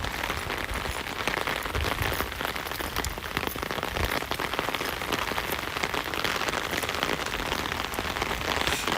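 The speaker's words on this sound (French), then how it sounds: "Moi, je m'entends même pas parler avec la pluie." Heavy rain pours steadily on surfaces outdoors, a dense, loud, unbroken hiss of drops with no pauses and no audible voices.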